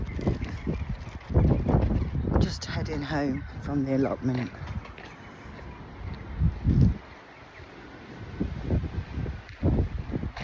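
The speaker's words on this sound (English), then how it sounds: "An example of how windy it is." Gusty winter wind buffets the microphone outdoors on an allotment, rising and falling in loud rumbling waves while someone talks over it.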